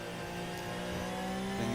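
A Porsche 997 race car engine in the rFactor racing game, on a Swedish track, rises in pitch as it accelerates, a steady, moderately quiet rising whine heard alone.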